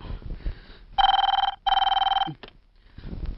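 A telephone rings in two loud, clear bursts of electronic trilling, each about half a second apart, followed by a brief click and faint background rustle.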